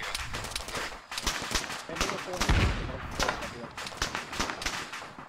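Gunfire in the video game Arma 3 as players shoot at a vehicle, with repeated sharp shots and bursts plus a heavier boom, under Finnish voices talking over it.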